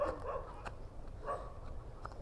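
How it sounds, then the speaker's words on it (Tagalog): A large dog near Caliraya Lake barks a few times at a distance, faint and separated by short pauses, over quiet outdoor ambience. "Ayun pa, may aso pa, ang laki oh."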